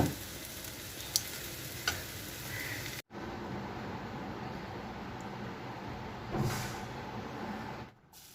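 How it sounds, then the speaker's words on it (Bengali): Chopped taro and lentils frying with onion and garlic in a pan, a loud, continuous sizzle close up that is briefly cut off and resumes, with a surge partway through. "কচু ছিল বড় বড় তো সেগুলোকে কুচি কুচি করে আমি ডাল দিয়ে ভেজে নিচ্ছি"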